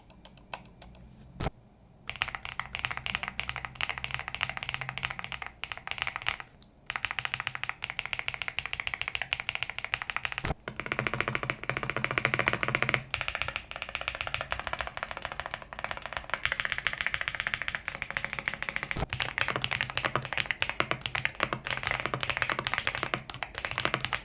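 Fast, continuous typing on a YUNZII AL75 mechanical keyboard with no desk mat, a dense close-up stream of crisp key clacks with occasional brief pauses and louder spacebar thocks.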